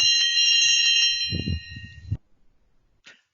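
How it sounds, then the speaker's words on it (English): A bright metallic bell, rung as a speaking-time warning at a committee meeting, rings loudly and sustains for about two seconds, with clattering handling noise beneath, then a short faint ding. "Mr. Taylor, would you just like to demonstrate your bell?"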